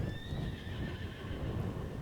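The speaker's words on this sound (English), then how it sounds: "the mare's screams of terror rise within the flames" A terrified mare screams and whinnies while trapped in a burning stable in Star Stable Online, her shrill cries held over a steady roar of flames with faint hoof clatter.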